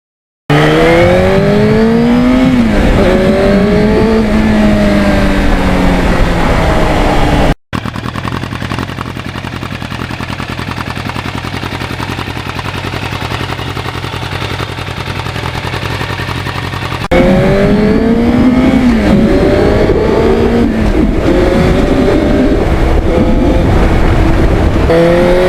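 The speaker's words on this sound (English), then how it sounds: "The sound when you're riding a bike is really, really nice." Engine of a 1977 Yamaha RD400 or FZR1000 motorcycle while riding, loud and close, with rising and falling revs through gear changes; a steadier droning stretch sits in the middle.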